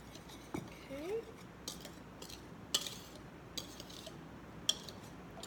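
Chocolate cupcake batter is stirred in a bowl with a utensil, giving quiet scrapes and a few sharp clinks against the bowl at irregular moments, faint and close.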